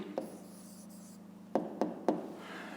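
A pen writes down an answer by hand for a fifth-grade maths exercise, giving one soft tap, a stretch of faint scratching, then three crisp taps close together near the end.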